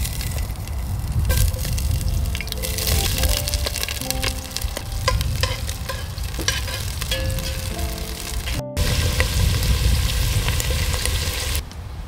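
Onions sizzle in hot oil in a pot set over an open fire, a steady crackling fry with scraping stirs and clinks throughout, loud and close, with one brief dropout near the end.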